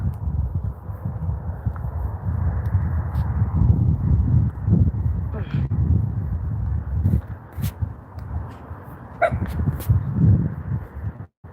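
A small dog barks and whimpers on a porch at night, with yips and short whines rising over a steady low rumble of background noise, fairly close.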